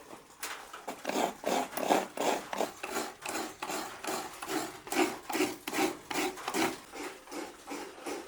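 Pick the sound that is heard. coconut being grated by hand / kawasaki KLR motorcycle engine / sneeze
coconut being grated by hand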